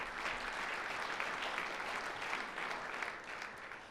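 An audience at a National Education Association board meeting applauds, a dense, steady wash of many hands clapping that holds evenly for several seconds at moderate distance.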